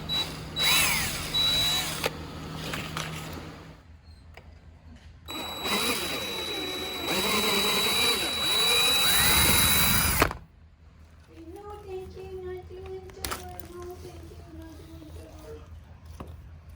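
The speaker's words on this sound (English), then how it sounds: "So what we're going to do is we are going to drill out the rivets." A power drill whines loudly in bursts while drilling out rivets on a broken throttle pulley from a Moster 185 engine, with a break between the two runs and then quieter mechanical rattling and tonal hum afterward.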